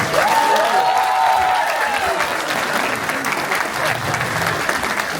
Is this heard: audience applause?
yes